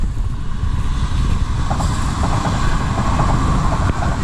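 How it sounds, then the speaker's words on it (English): A train rumbles past close by, a loud, continuous roar of wheels and rail noise with faint squeals and clatter throughout. "So here's a train."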